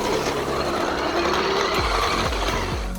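A big radio-controlled Range Rover Sport toy car steers its wheels outdoors, giving a close whirring, ratcheting servo and gear sound with a few short mechanical bursts near the end.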